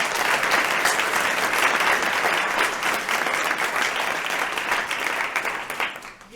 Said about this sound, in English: let's give a huge round of applause for all y'all for showing up tonight